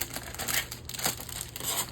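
Plastic wrapping from a diamond painting kit crinkles and rustles close by in steady, scratchy handling, with soft crackles rising and falling throughout.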